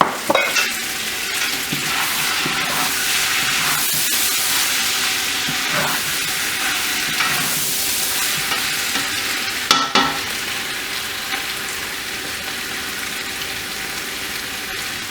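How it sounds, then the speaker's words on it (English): Kidney beans sizzle steadily in oil in a hot pot with a constant frying hiss, while a spoon scrapes and stirs at intervals. "Now that it's frying down, there goes my beans."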